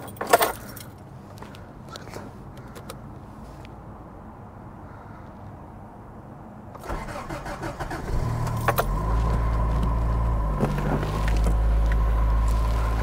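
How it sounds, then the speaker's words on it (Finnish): Toyota Corolla on a freezing morning: keys jangle and rustling come first, then the engine cranks and catches, settling into a steady, close idle rumble. "Käynnistetäänpä tämä auto."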